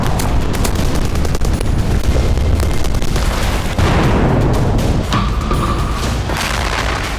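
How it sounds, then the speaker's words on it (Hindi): Bombardment in Gaza produces loud, dense rumbling and booming blasts that run continuously, heavy and close, with a crackling texture throughout and no voices. "गाजा में इजराइल बमबारी कर रहा है।"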